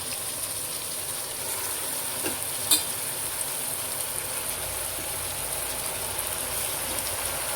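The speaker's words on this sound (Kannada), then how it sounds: "ತೊಳೆದಿರ್ತಕ್ಕಂಥ ಮಟನ್ನ ಸೇರಿಸ್ತಾ ಇದ್ದೀನಿ" Turmeric-washed mutton and tomatoes fry in a pan for pulao, a steady even sizzle with one brief sharp clink partway through.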